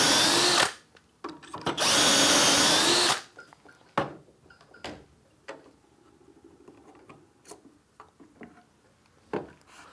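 A power drill bores dowel holes in a wooden workpiece through a Dowelmax indexing jig, two loud sustained runs in the first few seconds followed by scattered knocks and clicks of handling the tool and wood.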